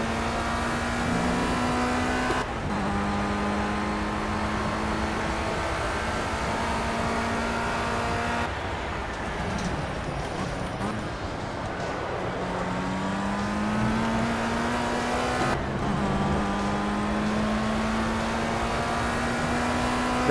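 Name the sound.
race car engine accelerating at Donington Park, video game Project CARS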